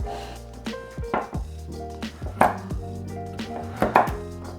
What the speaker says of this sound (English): Slice these guys up into nice little cubes